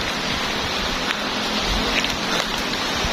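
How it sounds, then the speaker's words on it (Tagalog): Rain falls steadily outdoors, a soft, continuous hiss of drops with a few faint taps, moderately close and without voices. "Umulan no."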